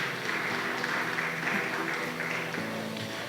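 Church congregation clapping together during a sermon, a moderate, steady patter of hands with faint voices mixed in beneath.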